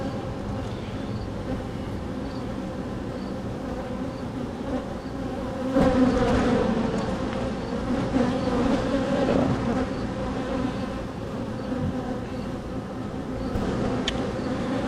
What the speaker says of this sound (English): she buzzed to let me know that she was there